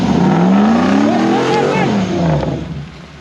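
A Toyota Land Cruiser bush truck with a 1UZ VVTi V8, dropping four cylinders, revs hard from first gear on full steering lock, the engine note climbing loud and close before easing off.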